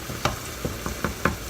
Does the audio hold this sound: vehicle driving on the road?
no